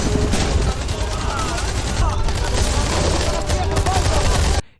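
Dense film battle gunfire as troops pour bullets onto Spanish soldiers blocking a road: continuous loud volleys and rattling bursts with booms, filling the whole stretch before cutting off abruptly at the end.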